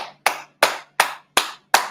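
Six sharp hand claps ring out in a steady, evenly spaced rhythm, close and crisp with short decays, standing alone without talk, done to imitate the sound of slapping cheeks.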